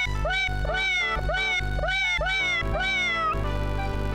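Cats meow in the video game Nora, a rapid string of about six loud, close, whiny synthetic meows in a steady rhythm over a constant low game hum.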